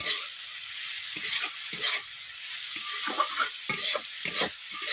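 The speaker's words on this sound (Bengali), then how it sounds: "জল দিয়ে একটু ভালো করে আমি কষিয়ে নিচ্ছি বরবটি আলু সয়াবিনগুলোকে" Yardlong beans, potatoes and soy chunks fry in a pan with a splash of water and salt, a bright sizzling hiss broken by repeated close stirring scrapes and clatters.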